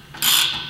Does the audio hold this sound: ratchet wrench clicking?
yes